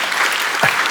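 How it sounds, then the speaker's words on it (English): An audience at a book festival talk breaks into a short burst of steady, dense applause, close and fairly loud, with no voices over it. "you can applaud that if you want"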